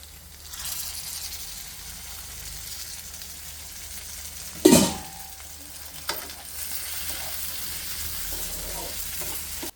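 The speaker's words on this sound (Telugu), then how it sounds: "మనం మిక్సీ చేసిన ఉల్లికారాన్ని దానిలో వేయాలి ఆ కారం నూనెలో బాగా వేగనివ్వాలి" Ground onion-chili masala frying in oil on a low stove flame for an ivy gourd curry, giving a steady close sizzle with a sharp stirring scrape in the middle, no talking.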